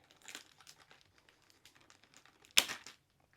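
The glue strip along the top of a resealable plastic bag from a diamond art kit is peeled back, giving faint crinkling and ticking followed by one brief, sharper tearing rip near the end, quiet and close.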